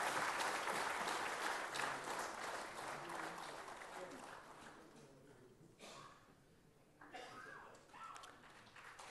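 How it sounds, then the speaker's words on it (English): An audience at an agricultural research foundation day ceremony applauds a team led by a state Chief Minister. Full, steady clapping gradually fades and thins out, and a few scattered voices and faint sounds follow. "please give the team led by the Honorable Chief Minister a big round of applause"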